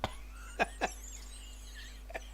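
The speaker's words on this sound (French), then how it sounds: "Je rigole parce que ça me fait tousser." A few short, faint coughs or hiccup-like bursts, scattered and quick, over a steady low hum and quiet background.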